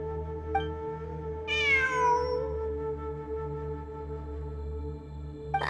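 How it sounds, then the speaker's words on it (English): A cat meows in the video game Genshin Impact, one long, drawn-out, falling meow heard clearly and alone against a steady background hum of game music. "It really is a cat."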